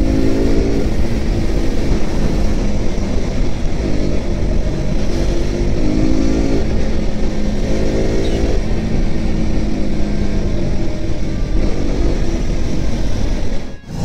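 A Yamaha MT15 motorcycle rides through dense road traffic, its engine droning loud and steady throughout with shifting revs and other vehicles mixed in close by.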